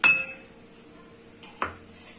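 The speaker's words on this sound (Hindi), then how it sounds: "ये एक बाउल में लगभग वजन में 100 ग्राम बेसन लिया हुआ है और ये 150 ग्राम हमने दही। इसे हमको करना है मिक्स।" Gram flour and yogurt in a bowl being mixed for vegetable kadhi: a sharp clink of a utensil against the bowl opens, a second knock follows about a second and a half later, otherwise quiet and close.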